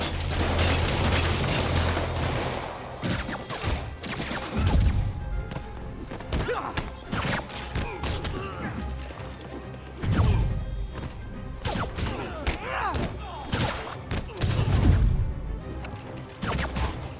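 Gunfire from criminals in the Spider-Man Remastered video game, repeated bursts of shots and heavy thumping impacts amid crashes and scuffles, loud and irregular throughout.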